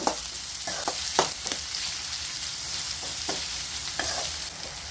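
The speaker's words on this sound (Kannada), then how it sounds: "ಈಗ ಇದನ್ನ ಫ್ರೈ ಮಾಡ್ತೀನಿ ಕೆಂಪಾಗಬೇಕು ಉಳ್ಳಾಗಡ್ಡಿ" Chopped onion and curry leaves frying in oil in a pan, a constant loud sizzle with occasional spoon scrapes and crackles, close up and uninterrupted by speech.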